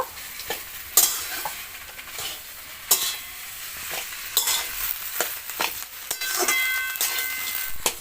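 A potato, fried peanut and chopped coriander mixture stirred in a pan for vegetable chops, with repeated scraping spoon strokes and sharp clanks against the metal over a soft background sizzle.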